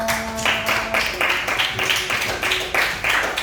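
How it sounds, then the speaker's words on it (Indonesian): Ninth-grade classmates in an Islamic studies lesson clap for a fellow student in several short, rhythmic bursts of hand claps. The claps are close and moderately loud in a small room. "Tepuk tangan buat Bayanaka."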